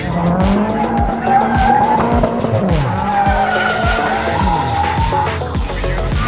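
A Nissan 240SX drifting, its tires squealing and skidding loudly up close over a revving engine with repeated gear and throttle swings, no talk.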